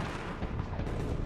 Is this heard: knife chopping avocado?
no